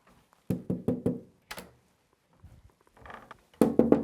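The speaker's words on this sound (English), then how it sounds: "The reason I'm knocking is just to make sure that someone's not in here." Someone knocks on a house door in quick bursts of three or four firm raps, pausing between them, with faint shuffling and creaks in the gaps.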